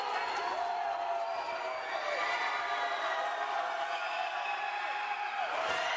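Traveling Panther crowd at a Vista vs. Taft CIF State quarterfinal boys basketball game, a dense sustained roar of screaming with stomping underneath, steady and loud throughout.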